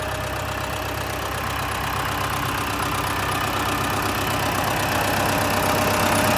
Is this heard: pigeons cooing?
no